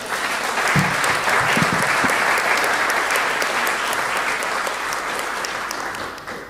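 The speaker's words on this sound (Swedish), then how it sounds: "Vi ger dem en applåd." An audience at a church-and-politics discussion event applauds: dense, even clapping from many people fills the room, with a few low thumps near the start and a slight fade toward the end.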